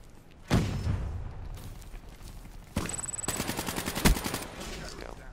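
Rapid automatic KM44 rifle fire in Call of Duty Black Ops 3, with loud bursts of close gunshots, a sustained rattling stretch in the second half and a sharp crack near the end.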